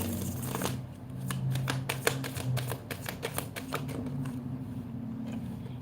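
Tarot cards shuffled by hand in a quiet room, a steady run of soft riffling patters and small slaps lasting several seconds, close up, with a faint low hum underneath and no talking.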